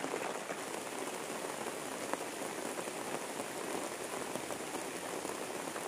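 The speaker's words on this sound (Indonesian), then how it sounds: "Berhubung ini lagi hujan, jadi kita Berteduh dulu ya neng ya" Rain falls steadily, giving a close, even patter and hiss with scattered sharper drops striking a surface. It continues throughout with no voices.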